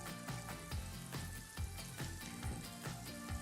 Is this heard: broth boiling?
yes